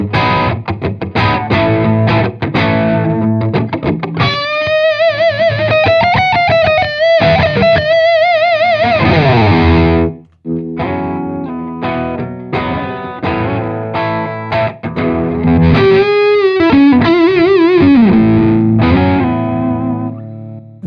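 Electric guitar played through an ENGL Steve Morse Signature 20 E658 tube amp, loud distorted solo lines with sustained bent notes and vibrato, a brief gap midway, then more lead phrases.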